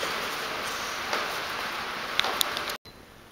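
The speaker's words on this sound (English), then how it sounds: "As soon as I turned the camera on, it instantly started raining harder." Rain falling steadily in Japan, a constant soft hiss of drops with a few louder taps close by before a brief cut, heard alone without talk.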